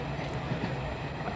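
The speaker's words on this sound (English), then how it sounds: "to travel on a train like this, the Flying Scotsman" The Flying Scotsman steam train running along the line, a steady low rumble of wheels and carriage noise carrying on continuously throughout, with no clear separate beats.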